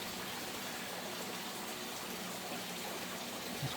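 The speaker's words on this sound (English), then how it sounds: "We're sucking a little bit of water right through here" Water being drawn through a line in an indoor grow setup, a steady broadband rushing hiss that holds evenly throughout, close and continuous with no talk.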